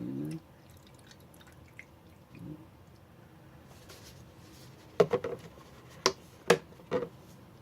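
Alcohol poured into a small insert-can alcohol stove: a quiet stretch, then a few distinct liquid splashes and drips close by, spaced about half a second apart.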